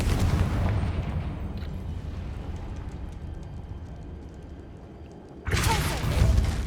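A fiery Confringo spell explosion in Hogwarts Legacy: a loud, sustained low rumble that thins out, then a sharp fresh blast erupts near the end, close and heavy.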